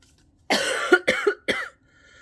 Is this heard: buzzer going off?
no